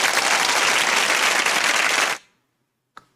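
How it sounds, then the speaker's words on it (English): A classroom audience claps steadily and loudly for about two seconds, then the applause stops abruptly, leaving near silence broken by one faint tap. "clapping for all of you"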